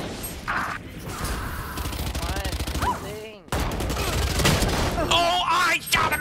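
Rapid gunfire in Valorant, with bursts and single cracks that come thick and loud over a dense layer of game effects. There is a brief dropout midway, then the firing resumes alongside mechanical clatter.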